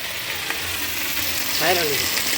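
Chicken frying with masala for biryani, a steady close sizzle with occasional stirring scrapes and a brief faint tonal whine partway through.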